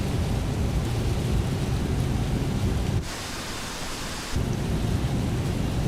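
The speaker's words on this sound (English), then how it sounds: "I hear rain." Rain heard inside an airliner cockpit in Microsoft Flight Simulator, a steady broadband hiss of rainfall that drops off for about a second and a half midway, then resumes, with no talking.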